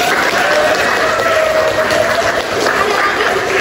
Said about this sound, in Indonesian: Terima kasih telah memberikan tepuk tangan.